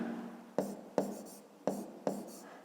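Pen writing on paper during a fifth-grade math lesson: four quick scratchy strokes, close and fairly quiet, spaced about half a second apart with soft room hum between.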